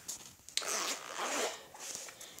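A zipper being pulled open on a small fabric pouch holding magic-trick cards and dice, a close, quiet raspy zip with a couple of short tugs.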